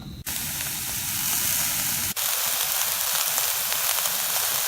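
Chanterelle mushrooms sauteing in a hot pan give a steady, loud broadband sizzle with a brief break near the start and another around two seconds in, then continue hissing evenly without any talk.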